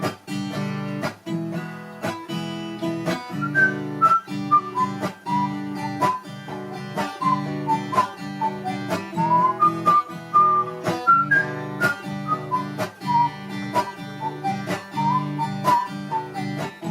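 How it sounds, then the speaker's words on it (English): Melodic whistling of a tune over rhythmic guitar strumming, the whistled line gliding in short phrases above steady chords, close and clear. "we have this whistling section. I'm going to demonstrate that"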